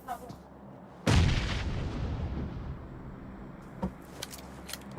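A grenade detonates in an esports shooter match, one sudden loud blast with a rumbling tail that slowly fades, followed by faint scattered clicks and distant gunfire.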